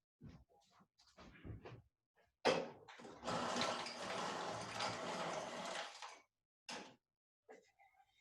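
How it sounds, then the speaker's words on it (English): Water poured into a drinking glass at a lecture desk, a steady splashing pour of roughly three seconds, bracketed by brief low speech and small knocks, quiet and close. "Here, let me just get a little more water here."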